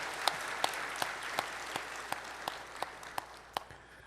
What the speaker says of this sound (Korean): 성령님께 영광의 박수를 드립시다